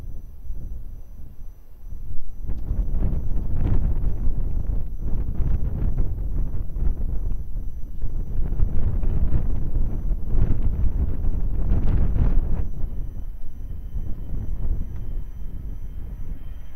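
Wind at Lisbon Airport, gusting near 13 knots from the north, buffets the microphone with heavy low rumbling that swells and eases in long surges.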